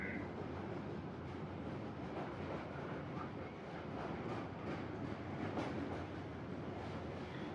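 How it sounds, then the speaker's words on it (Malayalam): A train rolls slowly over the Netravati bridge near Mangaluru, giving a steady, close rumble of wheels and carriages that stays fairly even throughout, with no voices. "വളരെ സാവധാനം പാലത്തിന് മുകളിലൂടെ ട്രെയിൻ നീങ്ങുന്നുണ്ട്."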